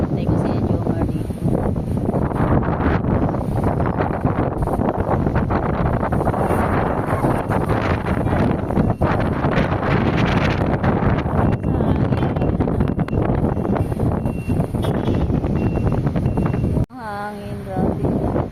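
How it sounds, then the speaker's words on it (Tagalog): Strong wind buffets the microphone with a loud, constant roar, and a voice speaks briefly near the end. "Grabe lakas ng hangin, no?"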